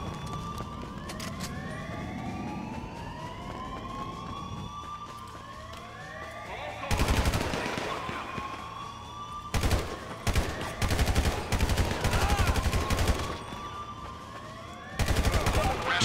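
Gunfire bursts and wailing police sirens fill a GTA V prison break heist, with rising and falling siren tones throughout and several loud clusters of rapid shots near the middle and end, a voice speaking briefly.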